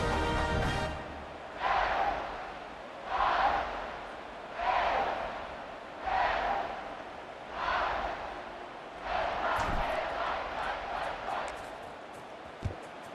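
A stadium crowd in EA Sports College Football 26 roars in repeated rising swells, about one every second and a half, before a kickoff, with a commentator's voice briefly over the distant cheering.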